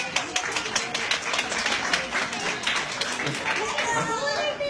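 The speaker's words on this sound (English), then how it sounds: "I think we deserve a round of applause" An audience at a kindergarten event claps in a dense, steady patter of many hands, with voices mixed into the applause.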